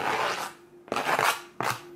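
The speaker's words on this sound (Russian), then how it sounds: "будем нарезать нашу грудку мелкими кубиками" A knife cuts boiled chicken breast into small cubes, three distinct slicing strokes, close and fairly quiet, each with a brief rasping scrape.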